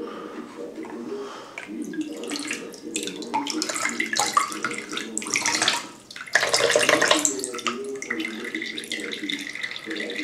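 Water seeping through fabric treated with hardware-store waterproofing spray and dripping at its lowest point: a steady, close, splashy trickle and patter of water runs throughout, swelling briefly louder partway through.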